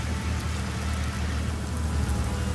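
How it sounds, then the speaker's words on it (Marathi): Heavy monsoon rain pours steadily on a flooded street in Dadar, Mumbai, a dense, unbroken wash of sound with a low rumble of traffic underneath. "मात्र तरीही पाऊस थांबत नाहीये."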